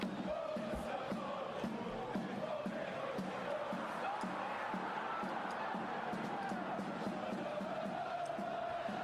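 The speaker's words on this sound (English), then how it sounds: "crowd's amazing today" Massed supporters at an Inverness Caley Thistle football match chant in steady rhythmic waves, a continuous dense roar of singing voices and claps filling the stadium without pause.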